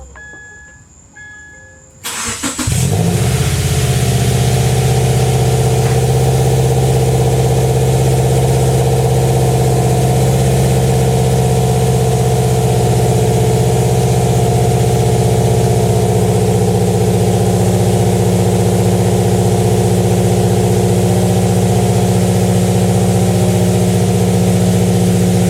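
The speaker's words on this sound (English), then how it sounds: "this is a first start of the Inferno Fabrications unequal length catted header 421 design and the Invidia R400 catback" A Subaru Impreza with an FB20 flat-four starts for the first time on an unequal-length catted header and catback exhaust, catching and settling into a loud, steady idle that drones on alone, no talking.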